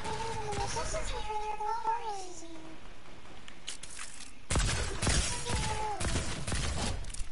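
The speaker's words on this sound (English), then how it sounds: "Yeah, the pulse rifle does a lot of damage." Rapid, dense bursts of pulse rifle fire in Fortnite break out in the second half and continue to the end, following an earlier stretch of talking voices.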